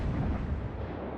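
The 150mm guns of the Gaeta cruiser fire in World of Warships, a deep rumbling boom that rolls on for just over a second at moderate loudness.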